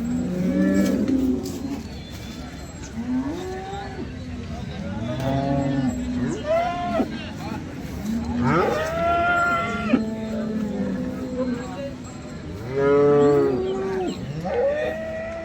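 Cattle moo repeatedly at a busy cow market in Sangola, long loud bellowing calls rising and falling one after another over a murmuring crowd.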